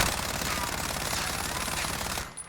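The Vector submachine gun in Modern Warfare firing one continuous rapid burst while aiming down sights, loud and dense with a fast rattling rhythm that cuts off abruptly near the end.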